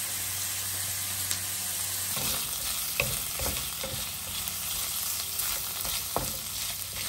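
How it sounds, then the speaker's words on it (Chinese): Garlic slices fry slowly in rendered oil over low heat, giving a steady, close sizzle with occasional spatula scrapes and light clicks as they are stirred. No one talks. "就是把它油尽量的煸出来，把蒜尽量的煸香"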